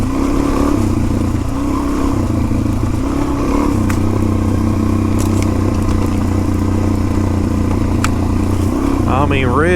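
A Tusk DSport dual-sport motorcycle rides off-road through leaves and soft dirt, its engine droning steadily and loud up close with clatter from the terrain, while a voice talks over it throughout.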